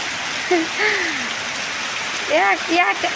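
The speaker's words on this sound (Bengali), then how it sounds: "সকাল থেকে একটানা বৃষ্টি হচ্ছে এরকম, সকাল থেকে একটানা।" Heavy, unbroken rain pours down as a steady broadband hiss that lasts the whole stretch, close and constant, with a voice speaking briefly over it.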